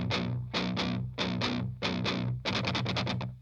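Distorted electric guitar chugs out a heavy, low riff, with palm-muted strings struck in tight rhythmic pairs that speed into a rapid run of short hits, loud and close, with no voices.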